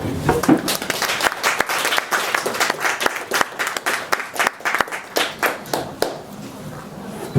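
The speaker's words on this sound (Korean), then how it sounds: "큰 박수 부탁드립니다." An audience at a hanok concert hall applauds with dense clapping that thins into scattered, rhythmic claps before fading. Some voices are heard under the applause.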